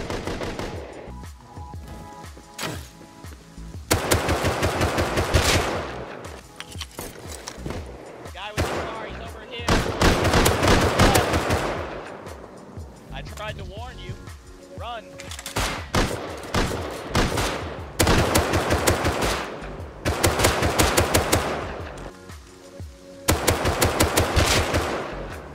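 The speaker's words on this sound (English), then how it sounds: "I heard the sound of a nearby gunfight" A nearby gunfight in the survival game Rust: loud bursts of automatic gunfire and single shots come in repeated volleys with short pauses between them, sustained throughout, with faint voices now and then underneath.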